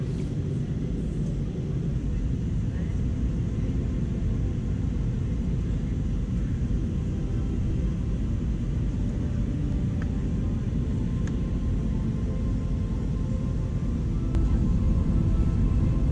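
Steady, loud low-frequency roar of an Aer Lingus Airbus A320 cabin in flight on an economy route from Belfast City to Heathrow, an unbroken engine and airflow drone with no talk.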